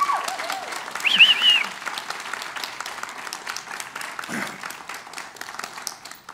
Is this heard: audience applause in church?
yes